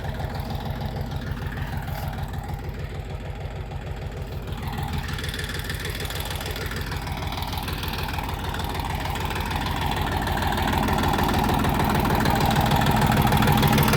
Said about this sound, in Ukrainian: Ось так працює двигун.